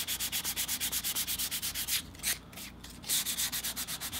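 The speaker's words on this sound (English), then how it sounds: "I'm just going to sand down where some of the high stress points would be." Sandpaper rubs a leather playing card case in quick, even back-and-forth strokes, close and clear, with a short pause midway before the scratchy rhythm resumes.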